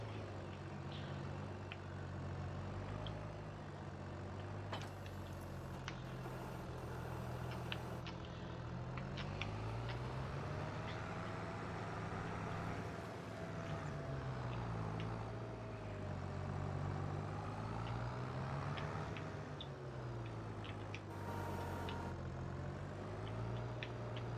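A tractor backing a trailer in the farming game Farming Simulator 22: a steady, low engine drone that rises and falls in pitch as the throttle changes, with no talk over it.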